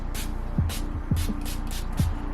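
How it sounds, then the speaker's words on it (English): Five short hissing bursts of a spray bottle spraying a scalp, evenly spaced, close up, with faint low thumps between them. "And you just spray your scalp."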